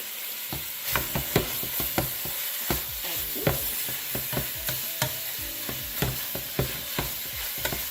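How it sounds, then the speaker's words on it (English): Ground beef fries in a pan, with a constant close sizzle broken by regular scraping and clacking strokes of a utensil stirring the meat, no voices heard. "we are going to cook this ground beef until it is extra crispy"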